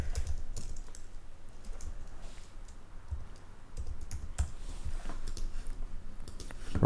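Soft, rapid typing on a computer keyboard during UI design work, with irregular clusters of key clicks over quiet room noise and no speech.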